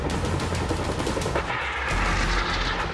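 A Cobra attack helicopter fires its guns during a live-fire exercise, with loud, dense, rapid bursts that roll on continuously and sound close and powerful.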